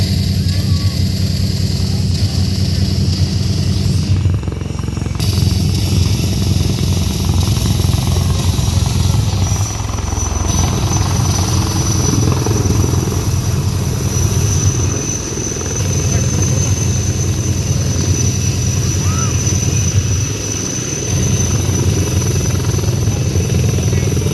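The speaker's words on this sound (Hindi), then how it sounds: "बहुत ही नीचे से होकर ये गुजरे रुद्र हेलीकॉप्टर।" An Indian Army Rudra military helicopter roars low and loud with steady rotor thumping and engine whine, the noise swelling and dipping briefly as it sweeps past overhead.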